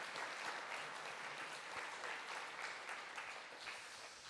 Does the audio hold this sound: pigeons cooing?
no